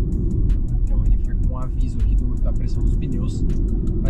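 A Renault Megane E-Tech electric car cruises on the Rodovia dos Bandeirantes highway, giving a steady, loud low road and tyre rumble that runs unbroken throughout, with someone talking over it.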